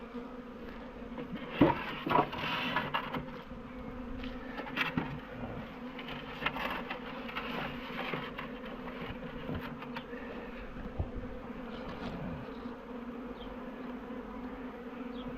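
A honey bee swarm buzzing on an elder branch, a dense continuous hum of many bees close by with brief louder swells, no voices.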